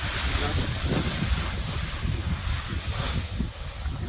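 Strong wind roars and buffets against the microphone continuously at a paragliding site, a loud rumbling gust with a low muffled voice faintly underneath.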